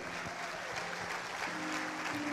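Congregation in a church applauding steadily, a continuous wash of clapping at moderate distance with faint tonal sound underneath and no clear speech.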